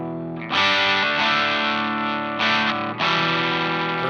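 A single-coil electric guitar runs through a Thorpy FX Electric Lightning all-tube overdrive pedal, playing loud, gritty strummed chords that ring out and are restruck a few times, with no speech.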